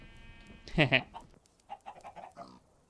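Minecraft sheep bleat in a loud, wavering cry up close, followed by quieter, choppy bursts of low murmuring or panting sounds under soft game ambience.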